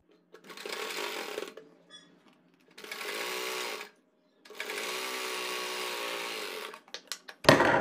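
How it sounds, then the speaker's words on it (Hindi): Sewing machine stitching through the elastic of an umbrella palazzo in a home setting, running in three steady bursts of whirring with short pauses between, close and fairly loud, with no talk. "यहाँ पर टांकी बांधते हुए पूरी सिलाई लगाएंगे"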